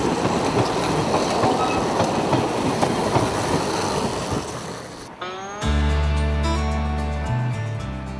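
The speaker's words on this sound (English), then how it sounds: "a lovely steam train" An LGB model steam train rumbles and clatters along the track, loud and steady, before the sound gives way to a sustained droning tone.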